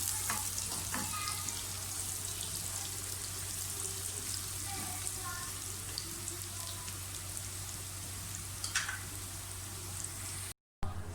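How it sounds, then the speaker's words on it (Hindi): Onions frying to golden brown for moong dal khichdi, a continuous crackling sizzle with scattered pops and spatters, close and steady, no talk, a brief dropout right at the end. "प्याज फ्राई हो गए"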